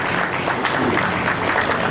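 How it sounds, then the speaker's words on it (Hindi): People gathered at a religious study camp break into loud applause for a participant's punctuality, a short, dense and steady wash of clapping from a roomful of hands. "जोरदार तालियां पंक्चुअलिटी के लिए"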